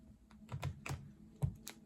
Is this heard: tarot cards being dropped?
yes